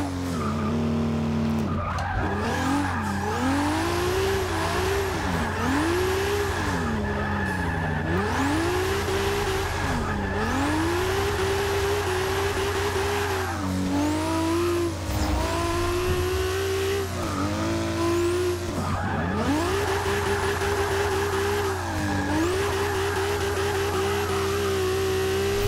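A Toyota Supra drift build in Forza 6, its engine revving loud and close, pitch rising and falling over and over as it accelerates, with tires squealing and skidding throughout and no talk.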